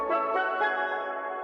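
Short beat melody with the bass filtered out, a thin tonal synth phrase of a few soft notes that fades out quietly, with no low end and no voices.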